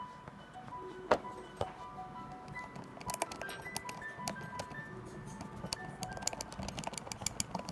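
A bicycle wheel with slight bearing play is rocked by hand, giving faint, irregular small clacks and clicks against a quiet background, close and soft.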